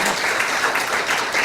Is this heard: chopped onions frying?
no